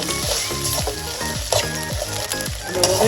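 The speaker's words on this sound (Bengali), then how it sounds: "তিন টেবিল চামচ আদা রসুন বাটা ভালোভাবে কষিয়ে নেব" Ginger garlic paste sizzling hard in hot oil in a pan while being sautéed for a chicken roast, with a steady loud frying hiss and rhythmic stirring scrapes close up.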